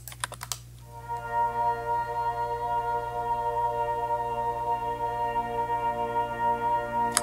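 Umlaut Audio synth pad, a broad low-mid sustained chord with slow internal motion. It holds steady and moderately quiet after a few brief clicks at the start.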